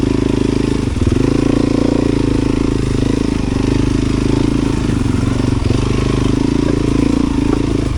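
A four-stroke motorcycle idles on an autumn trail ride, putting out a steady, loud, low throb close by with a few slight dips in its rhythm and no revving.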